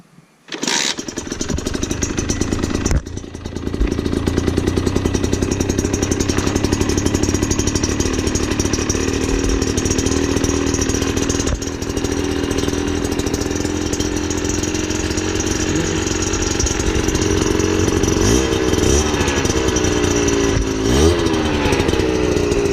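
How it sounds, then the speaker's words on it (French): A 2017 Sherco 50cc Sixdays two-stroke dirt bike fires up after a brief silence, then runs loud and close in a steady buzzing idle, with several sharp revs near the end. "moi je vais vous la faire démarrer pour écouter tout simplement ce magnifique Big One"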